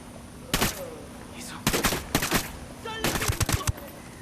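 Bursts of gunfire in Ghost Recon: Wildlands, several sharp volleys and rapid shots loud and close, separated by short gaps, with faint voice traces between.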